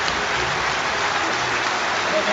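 Hometown stadium crowd in Bolton giving a sustained roaring ovation to Olympic boxer Amir Khan, a loud, even wash of cheering and applause throughout.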